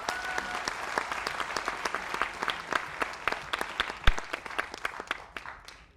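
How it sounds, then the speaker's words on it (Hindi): A room full of people bursts into a loud, sustained round of applause, dense overlapping claps running steadily throughout with no talking on top. "मैं चाहता हूं अपने आप के लिए एक जोरदार ताली होनी चाहिए।"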